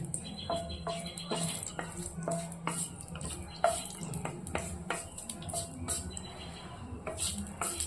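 Bay leaf, dried chilli and whole spices such as cloves, cinnamon and cardamom frying in oil, soft sizzle under repeated clinks and scrapes of a spoon against the pan, close and continuous.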